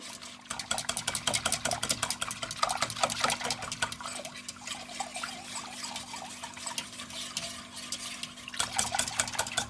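Rapid scraping and clinking of a utensil stirring pudding in a pot, steady and continuous, close up with a faint hum behind.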